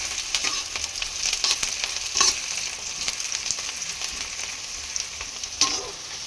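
Chopped onions sizzle and fry steadily in hot oil after cumin, with a constant hiss and a few louder stirring scrapes, while aloo paratha filling is being made at home.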